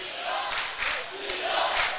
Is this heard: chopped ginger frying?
no